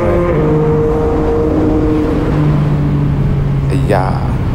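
Yamaha MT-09 motorcycle with a loud exhaust pulling hard through the gears inside a tunnel, a roaring engine note climbing, dropping at a shift and climbing again, booming and close, with a brief shout near the end.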